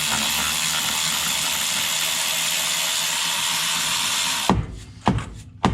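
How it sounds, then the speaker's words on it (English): An electric ratchet spins out drive shaft bolts on a Jeep JKU, a steady loud mechanical whir running for several seconds before cutting off into a few short, sharp ratcheting bursts up close. "then go in with an electronic ratchet to remove them"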